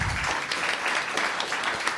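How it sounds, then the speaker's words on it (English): Applause for the youth commissioners at a town council meeting, a short burst of steady clapping from a modest crowd in a hall. "Can we give our youth commissioners a round of applause?"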